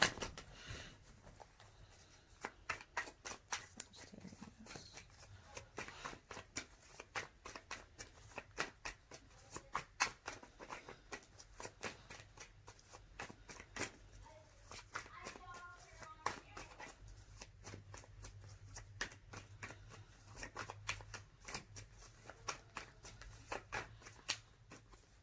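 Tarot cards shuffled repeatedly for a long stretch, a rapid riffling patter with soft hand sounds, close by and steady throughout.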